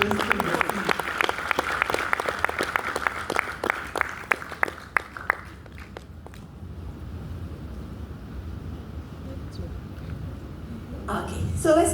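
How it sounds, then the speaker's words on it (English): An audience applauds panelists at a quantum technologies program event, steady clapping for several seconds that thins out to scattered claps and then room ambience, with a brief renewed burst at the very end. "Can we give a big round of applause at our panelists, please?"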